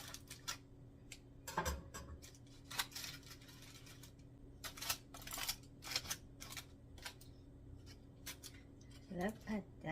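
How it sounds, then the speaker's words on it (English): Scissors snip through the string tied around a Trinidadian pastelle, a few short crisp cuts with light handling clatter in a quiet kitchen. "Let me cut this string."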